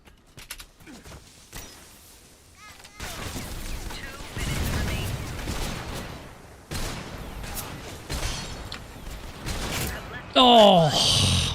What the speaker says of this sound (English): there's some shooting going on